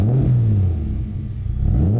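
A Ford Tickford turbo V6 Cologne engine revs in a car, a deep, loud rumble that rises, falls back and climbs again in two throttle blips.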